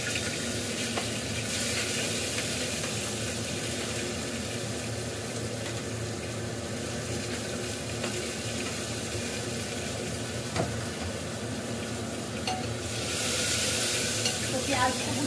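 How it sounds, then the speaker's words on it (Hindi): Onions frying in a pan after a pinch of asafoetida, a steady, even hiss of sizzling oil that holds throughout at moderate volume, with faint running-water-like noise underneath and no speech. "तो यहाँ पे प्याज मेरी भून रही है अच्छे से"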